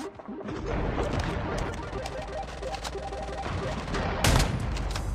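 Dense, continuous gunfire in Call of Duty Mobile: rapid automatic bursts and overlapping shots fill the whole stretch, with a louder crack near the end and a faint voice underneath.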